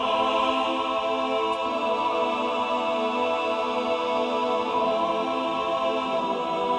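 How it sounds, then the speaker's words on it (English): Sustained choir patch from the Nucleus sample library holds a steady, full chord of layered voices throughout, smooth and continuous with no talk. "Let's try to add some sustained choirs."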